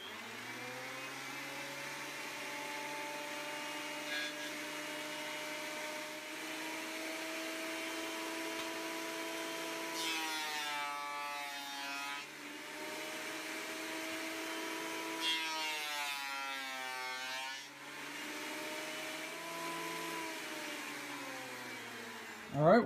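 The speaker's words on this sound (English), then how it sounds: "we're going to run this through the thickness planer" A thickness planer feeds a melted HDPE plastic blank through its cutters. The machine drones loudly and steadily with a whining motor hum, and the pitch dips and wavers twice as the cutters bite into the plastic; no voices are heard.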